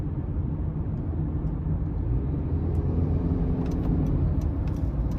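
A 2023 Honda CR-V EX with the 1.5-litre turbo four-cylinder and all-wheel drive, heard from inside while driving: a steady low engine and road rumble, smooth and continuous, with faint ticks and clicks over it and no voices.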